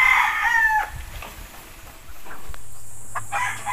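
Pet chickens at a small backyard breeder's being bathed, a rooster crowing loudly and close at the start, followed by scattered clucks and short calls against light background noise.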